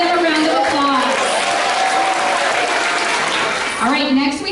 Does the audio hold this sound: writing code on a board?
no